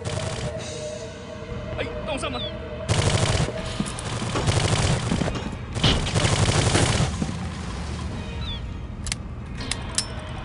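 Bursts of automatic gunfire from the PC shooter Soldier of Fortune II: Double Helix ring out in loud rapid volleys between quieter game ambience, with a few sharp single shots near the end.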